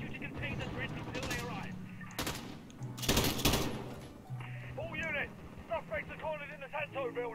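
Enemy gunfire in Call of Duty: Modern Warfare, a few loud sharp shots and a heavier blast cracking out amid ambient game noise, with someone talking over it in the second half.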